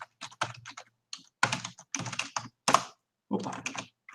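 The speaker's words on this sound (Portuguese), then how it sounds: "Tô com dificuldade com o meu teclado aqui." Typing on a computer keyboard, close bursts of rapid clicky keystrokes separated by short pauses, loud and alone.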